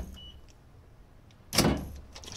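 A door lock actuator from the passenger side of a Toyota Noah, removed for repair of a key-lock fault, gives one short mechanical clunk and whir midway, alone against faint background hiss.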